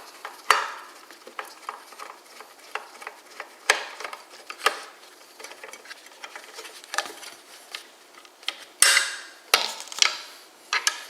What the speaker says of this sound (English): All you have to do is remove this screw at the bottom with a Phillips head screwdriver.